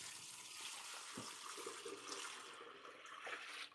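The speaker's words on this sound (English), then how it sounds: "Let's dump some of this stuff that we created. We had this dish of ice water that we don't need." A dish of ice water being dumped into a kitchen sink, a steady faint splashing pour with a few sharper splats along the way.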